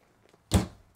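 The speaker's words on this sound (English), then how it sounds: "you've got the closet slide here with plenty of more than enough hanging space" The closet slide door in a 2022 Rayan Solitude 280RK-R fifth wheel RV bedroom, heard as a single short thunk of the door sliding shut, close and moderately loud after a near-silent moment.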